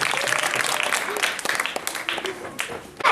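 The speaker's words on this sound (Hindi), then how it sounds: "इसके लिए हम लोग जोरदार तालियां" Applause from a crowd at a school annual day prize-giving, a steady wash of many hands clapping with voices mixed in, fairly loud throughout.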